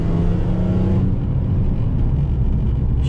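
A warmed-up BMW M3 engine running while driving, a steady, close, low rumble with a slight shift in tone after the first second and no talk over it.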